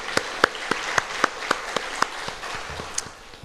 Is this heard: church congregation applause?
yes